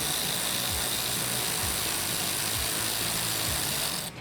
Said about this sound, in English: we can tighten those up with a 10mm socket. I'm using my electric ratchet as well.